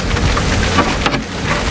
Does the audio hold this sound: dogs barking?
no